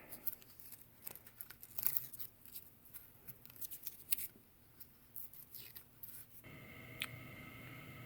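Paper peeled back off a hand-carved wooden guard with laurels, giving soft intermittent tearing and rustling strokes, close and quiet, before a steadier hiss at the end.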